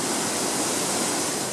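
Raysko Praskalo waterfall in the Balkan Mountains of Bulgaria, a steady, dense roar of falling water, loud and unbroken throughout, with no voices.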